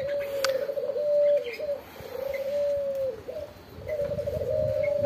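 Repeated low, steady coos from a dove close by, with a few soft chirps from other birds in the background.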